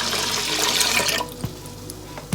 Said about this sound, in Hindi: अब इसमें थोड़ा सा और पानी डाल लेंगे